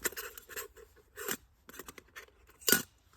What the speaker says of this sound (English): cut the handle off